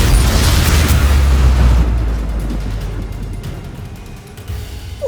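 A Confringo blast spell erupts in Hogwarts Legacy, a loud booming explosion with a rumbling roar that decays over a few seconds, followed by faint scattered debris sounds and a small sharp sound at the end.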